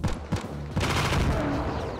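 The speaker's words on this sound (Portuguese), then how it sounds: "Não, não posso dar só um tiro não, posso dar mais de um tiro" Rapid gunfire from a mobile shooter game boss fight: a few separate sharp shots, then a dense sustained volley, loud and close, with no speech over it.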